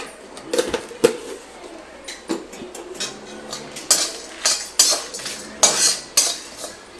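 A spoon scrapes and clinks around a pan as a pinch of spice is mixed into pindimiriyam: a series of sharp metallic taps and scrapes, close and moderately loud, quickening toward the end, with no talking.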